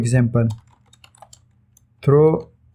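Keys clicking on a computer keyboard while C# code is typed, with soft, sparse taps between bursts of close, clear speech.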